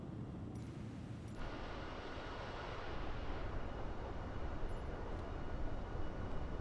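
A jet aircraft passes at high altitude in a flight simulator game, a broad steady rumbling roar that swells slightly louder midway and holds, with no voices.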